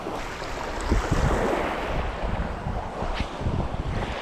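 Strong wind gusts roar across the microphone in a steady, buffeting rush, with faint water sounds underneath and no voices.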